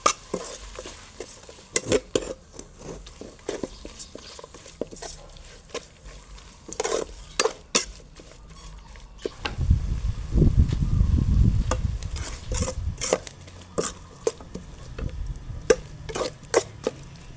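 Beef, seasoning and lemongrass stirred in a pot for a Thai beef and pumpkin stew, with scattered clinks and scrapes of a utensil against the pot and a louder, denser stretch of stirring in the middle.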